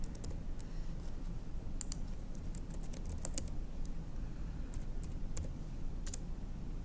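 Keys clatter on a computer keyboard while someone logs in, a quiet run of irregular clicks and taps over a low steady background hum, with no talking.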